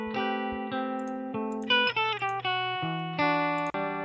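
A dry, unprocessed guitar sample plays a short melodic line of clean plucked notes, each sustaining with clear harmonics before the next, loud and close with no talking.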